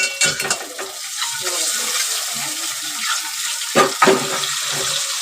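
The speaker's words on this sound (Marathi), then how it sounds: "तूप तापलाय टोपामध्ये" Eggs stirred and fried in hot ghee in a pot: a steady close sizzle runs throughout, with a few louder scraping stirs near the start and just before the four-second mark.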